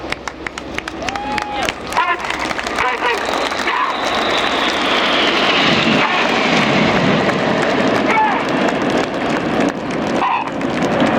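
Red Arrows RAF jets perform a nine-aircraft break manoeuvre at about 400 mph during the Yeovilton air show. A powerful roar swells and sustains over a voice commentating, loud and close, after a few sharper cracks at the start.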